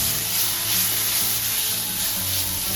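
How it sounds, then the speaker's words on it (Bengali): Ginger-garlic paste and masala frying in a pan for a jackfruit curry, giving a steady, close sizzle with faint scraping as it is stirred, with no talk over it. "দিয়ে দিলাম আদা আর রসুন পেস্ট দিয়ে মশলাটাকে ভালোভাবে একদম নেড়ে চেড়ে নেব"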